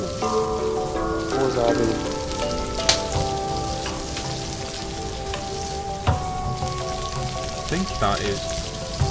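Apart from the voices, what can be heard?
food sizzling while cooking in a video game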